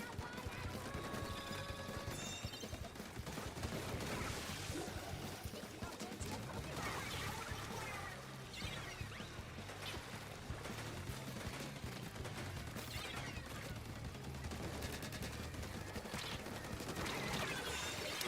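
Rapid ink-gun fire in Splatoon 3, a dense, continuous stream of splattering shots over busy game sounds, fairly faint overall.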